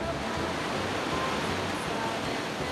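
Pacific Ocean surf rolling onto Jaco Beach, a Costa Rica surfing beach, as a steady, loud, continuous roar of breaking water and wash with no distinct pauses and no voices.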